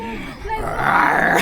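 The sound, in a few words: child imitating a dinosaur roar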